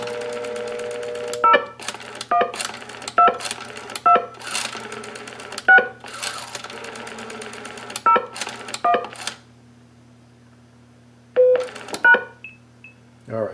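Short DTMF tones from a pulse dial to DTMF converter in blue box mode play in irregular clusters over a low steady hum. Clicks sit between them and a long pause falls before a final few tones.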